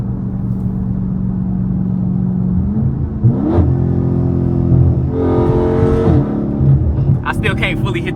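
A 500 hp Dodge Scat Pack driven on the road, its engine a deep steady rumble from inside the cabin that rises in brief revving surges, with interior noise and light knocks over the drone.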